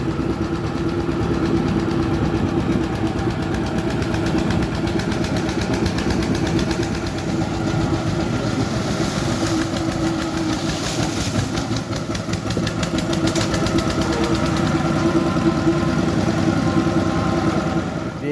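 A motorbike engine idles on a trip out to the rice fields, a steady low rumble with a faint ticking vibration that holds unchanged and close for nearly twenty seconds, no voices heard.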